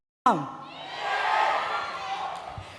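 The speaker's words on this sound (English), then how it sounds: "Everybody is cheering for you." Audience at a school annual meet cheering in a sudden loud burst of crowd noise that swells into sustained mixed shouting and cheers, staying strong for a few seconds before easing slightly.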